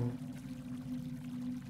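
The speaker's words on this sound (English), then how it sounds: "we still need to flush the shit out" Water rushes and pours steadily in a video game flush, a brief, low, continuous stream with no talk.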